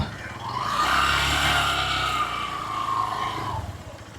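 Motorcycles starting up and riding off along a North Goa beach area, a rising engine drone that swells and holds steadily for a few seconds before fading slightly, heard fairly close with no talk.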